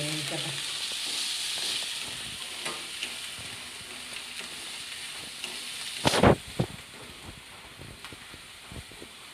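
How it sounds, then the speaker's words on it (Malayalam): Egg puff filling fries and sizzles steadily in a pan, with a brief loud scraping stir about two-thirds through and softer stirring clatter around it, close up. "ഇതൊന്ന് ഇളക്കി"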